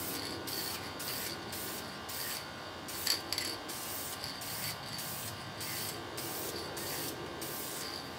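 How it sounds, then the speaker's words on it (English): Spray paint can hissing out a light first dusting coat through a logo stencil on a Honda minibike seat, in short rhythmic bursts with brief pauses, close by and with no talking. "So first coat, just a nice dusting to get adhesion good."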